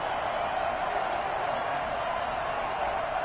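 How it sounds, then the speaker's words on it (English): A stadium crowd in the Madden 21 football game: a continuous broad roar of many voices urging on the defense, steady and moderately loud throughout. "And this crowd urging on their defense."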